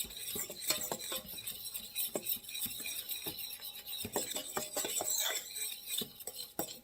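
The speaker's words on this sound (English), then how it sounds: "And now I'm going to take a fork and just kind of mix this up a little bit." A fork scrapes and clinks around a bowl as homemade chocolate pudding is mixed, with quick irregular taps and stirring scrapes running throughout, fairly close and with no talking.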